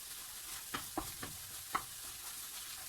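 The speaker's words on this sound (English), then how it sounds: "Let that sizzle down." Soft, steady sizzling from a pan, broken by a few light clicks and scrapes of a spoon, quiet and close.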